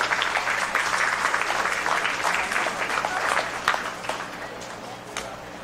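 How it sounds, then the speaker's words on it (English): Audience applause at a county fair beef cattle show, a steady patter of many hands clapping that gradually thins, with a voice heard faintly under it. "Clap it up big for these kids"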